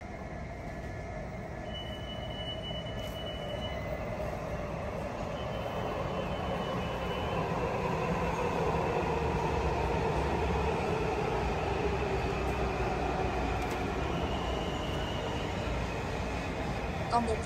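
A Washington metro train at the station beneath the Marriott hotel, a continuous rumble of rolling cars and wheels growing slightly louder midway, with faint squeals and a voice in the background.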